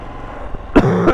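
A man, in a car while working Glovo deliveries, clears his dry throat and gives a short rough cough, two loud, close bursts after a moment of quiet.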